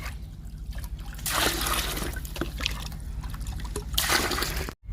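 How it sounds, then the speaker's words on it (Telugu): Liquid plant fertilizer poured into a 10-litre bucket outdoors, a steady close trickle and splash of liquid running for several seconds, briefly heavier at moments, ending abruptly. "అందుకని పది లీటర్ల బకెట్లో పోస్తున్నాను"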